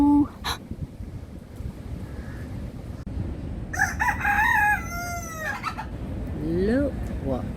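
Roosters crow and chickens cluck on a farm, with a sharp call early on and two long crows later, mixed with steady background noise and a busy barnyard hum.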